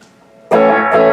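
Electric guitar through a Timmy V2 overdrive pedal with the treble cut being rolled: a quiet, dark chord that suddenly jumps into a loud, bright, sustained distorted chord, alone with no talking.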